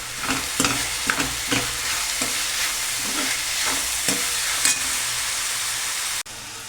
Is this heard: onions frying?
yes